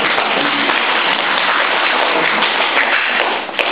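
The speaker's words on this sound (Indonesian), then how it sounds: "Tepuk tangan dulu dong," An audience of women at an Indonesian provincial community gathering applauds in a dense, loud, continuous wash of clapping that holds steady throughout.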